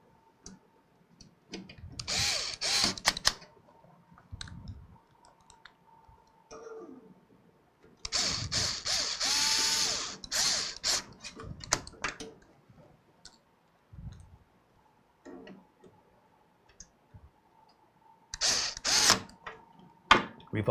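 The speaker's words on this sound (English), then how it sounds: "We're going to put these screws right back in here." Small screws driven into a gaming PC case during a build, heard as scattered bursts of clicking and brief whirring from a screwdriver or power driver, separated by quiet gaps, fairly close.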